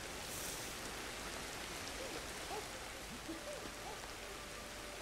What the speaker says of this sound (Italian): No, comunque è vero, piove molto.